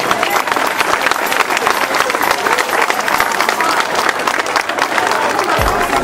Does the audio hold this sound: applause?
yes